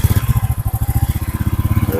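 An old motorcycle engine idles after starting, a loud, close, rapid rhythmic putter of evenly spaced firing pulses with no talking over it.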